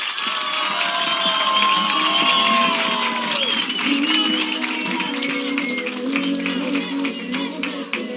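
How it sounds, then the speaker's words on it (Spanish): Steady applause from a crowd fills the whole stretch, dense and sustained, with some cheering and voices mixed in. "Con un fuerte aplauso."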